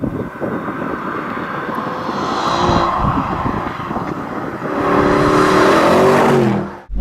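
Mercedes SLS AMG sports car engine revving on private land, a loud roar that swells, eases, then climbs again into a higher rising rev before cutting off sharply, with no talk.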